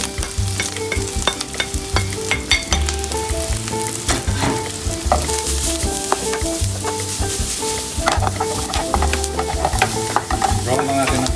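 Garlic and onion fry in a hot pan with a steady, dense sizzle, broken up by repeated scraping and stirring of a utensil against the metal, close and loud throughout.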